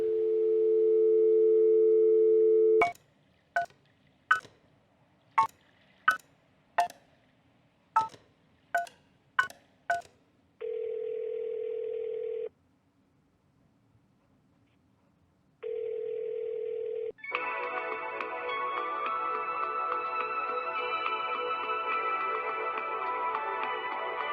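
Dial tone from a telephone in the Kentucky Route Zero video game, followed by a quick run of separate touch-tone key beeps, two bursts of ringback tone split by silence, and then a dense electronic tone that holds on to the end.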